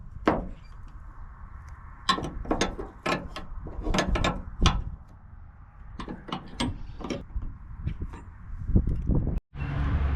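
Ratchet wrench tightening bolts on pod light brackets on a Tacoma truck, a steady run of sharp clicking bursts with mechanical clatter, close and fairly loud, no talking.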